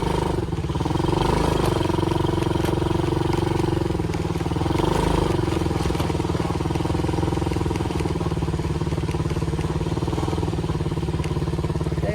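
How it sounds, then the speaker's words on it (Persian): A four-wheel ATV engine drones loudly and continuously up close, with steady revving and occasional clattering bumps as the vehicle rides along. "بریم سوار موتور شیم"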